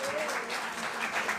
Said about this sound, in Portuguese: dê uma salva de palmas ao Senhor aí